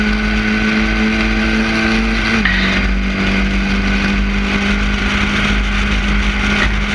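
Onboard a historic Formula Ford racing at Thruxton, the engine screams at full throttle in a loud sustained steady tone, with one quick gear change dropping the pitch before it holds again.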